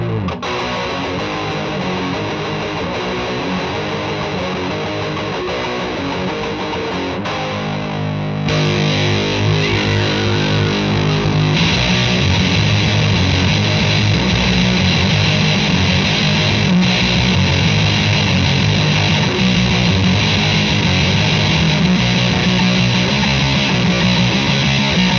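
Electric guitar through a Fuzzlord FU-2 fuzz pedal playing punk-style riffs, a loud, thick, saturated distorted tone that shifts between chord patterns and carries on steadily without any talking.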